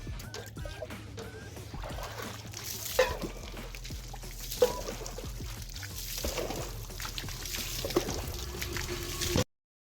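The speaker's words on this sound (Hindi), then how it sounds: "मैं यहाँ नीचे बैठकर इस मग्गे से नहाने जा रहा हूँ" Cold tank water scooped and poured with a mug over someone bathing while crouched on a floor with no shower, splashing in a steady run of pours and trickles with a few louder splashes, close and fairly quiet.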